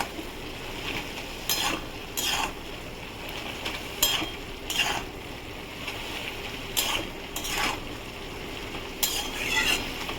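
Snake gourd with turmeric powder stirred in a pan, a spoon scraping and clinking against the metal in irregular strokes over a soft, steady sizzle of watery vegetables.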